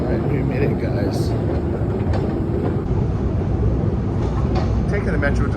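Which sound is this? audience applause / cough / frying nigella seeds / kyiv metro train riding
kyiv metro train riding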